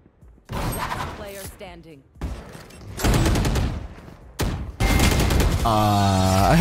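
Gunfire from the tactical shooter Valorant comes in several loud, dense bursts of rapid shots with short gaps between them, mixed with other game sounds and music. A voice is heard in between.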